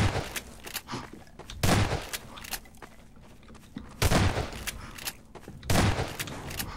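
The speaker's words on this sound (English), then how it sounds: "I hear shotgun." Loud shotgun blasts in the video game Prop Hunt, four heavy booming shots spaced a second or two apart with lighter clicks and footsteps between them.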